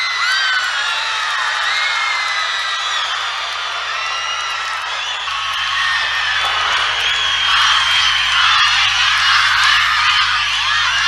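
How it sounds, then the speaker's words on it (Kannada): At a public event, a large crowd of fans cheers, whoops and chants Modi's name as he takes the stage, a dense, loud roar that carries steadily throughout. "ಮೋದಿ ವೇದಿಕೆಗೆ ಬರ್ತಿದ್ದಂತೆ ಮೋದಿ ಮೋದಿ ಎಂದು ಅಭಿಮಾನಿಗಳು ಹರ್ಷೋದ್ಗಾರ"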